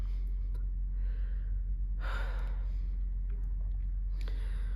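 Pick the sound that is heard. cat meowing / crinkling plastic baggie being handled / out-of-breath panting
out-of-breath panting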